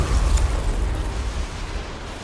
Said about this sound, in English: A massive explosion echoes from the upper levels of the mothership.